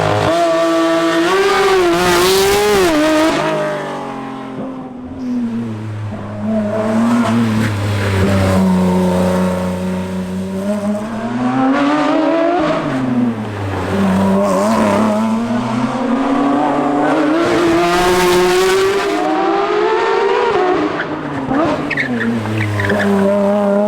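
A Porsche 992 GT3 RS race car laps a track on a hot lap, its engine loud and close as it revs, rising and falling through gear changes, with sustained tire squeal and skidding through the corners.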